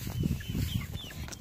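Chickens on a backyard farm cluck softly in short, scattered bursts, close by and faint, with no talk over them.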